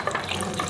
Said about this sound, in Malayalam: ഐസിൽ കുറച്ച് വെള്ളം ഒഴിച്ചിട്ട്